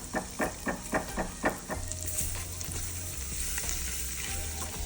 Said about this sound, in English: Stir that up and let it brown a little.